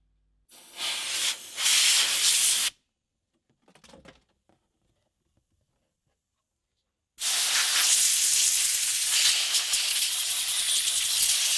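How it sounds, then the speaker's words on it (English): Compressed air blasting dust out of an original Xbox console, two loud sustained hissing bursts separated by a quiet gap with faint rustling handling noise. "Now I blow out the dust with compressed air."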